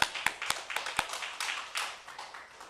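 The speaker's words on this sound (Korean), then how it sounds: "하나님께 영광의 박수 돌리겠습니다." A church congregation claps together during a worship service, starting with a few sharp claps that swell into a brief, moderately loud burst of applause that gradually fades.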